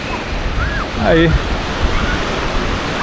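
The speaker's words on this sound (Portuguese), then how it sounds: "Tá um vento agradável, não muito forte. As ondas bem fraquinhas." Gentle, weak sea waves wash steadily onto the sand at Praia dos Ingleses in Florianópolis under a light, pleasant breeze, a constant soft rumble with brief voices and a short spoken word over it.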